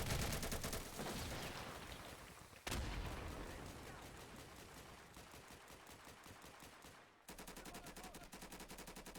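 Rapid automatic gunfire from the video game Insurgency crackles in loud, dense bursts, sustained for seconds at a time with a brief sharp break midway.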